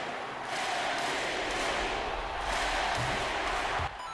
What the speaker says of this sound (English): listen to the MVP chants from the crowd